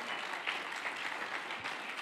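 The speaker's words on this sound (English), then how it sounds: "Come on, clap your hands for the man of God." A church congregation claps for their pastor during a Sunday morning worship service, a brief, even patter of many hands that sounds soft and somewhat distant.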